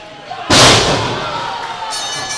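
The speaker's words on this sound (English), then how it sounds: "that thud was Jake Christ being hauled back into the ring." A wrestler is hauled back into the ring at a live wrestling event, giving one sharp, loud thud on the mat followed by a lingering roar from the crowd.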